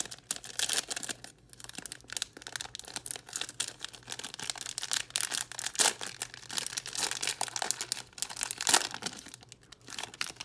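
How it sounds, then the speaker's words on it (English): Optic trading card packs being ripped open up close, with dense crinkling and tearing of foil wrappers in irregular bursts, fairly quiet and with no speech. "We're gonna be ripping two little Optic packs right here."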